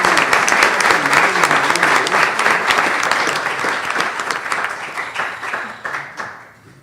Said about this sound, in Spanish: Pido un aplauso para la autora de la Sagrada Mitra de Guadalajara